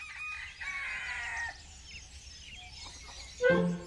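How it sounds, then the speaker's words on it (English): Chickens clucking with a rooster crowing, close and fairly clear, with tonal calls and clucks in bursts and a louder squawk near the end. "Chickens communicate with their flocks by making sounds that only other chickens understand."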